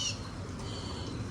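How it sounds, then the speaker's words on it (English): Brief calls of northern mockingbirds ring out over a soft garden background around noon, a few bright chirping notes at moderate distance. "Listen to the northern mockingbirds especially. The birds are very noisy right now."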